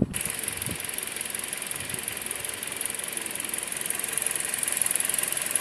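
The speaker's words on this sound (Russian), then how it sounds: "Пробег 190, двигатель работает относительно тихо" A Toyota Auris 1.6-litre 1ZR-FE engine with about 190,000 km idles steadily with a low, even rumble and faint mechanical ticking, continuous and close, no voices.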